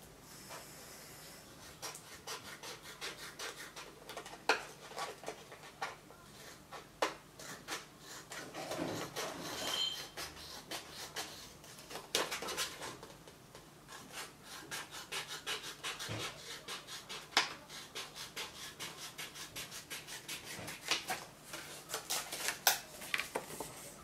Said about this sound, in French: c'est de prendre ma base de carte et de venir marquer les côtés pour venir découper selon ces axes là